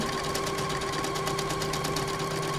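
A Fadimex sewing machine stitching steadily, a fast continuous mechanical whir with rapid needle clatter and a constant motor hum, close and even throughout.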